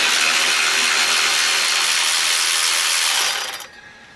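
A power tool spins a 13mm bolt holding the coil spring retainer on an XJ Cherokee, a loud continuous high-pitched whirring grind lasting about three and a half seconds before cutting off.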